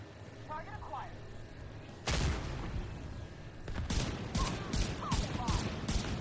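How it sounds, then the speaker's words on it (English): Mortar fire in a video game raid boss fight lands as booming bursts and rapid crackling explosions, loud and dense, starting abruptly after a quieter stretch with faint game chirps. "Move out of the way when we have mortars."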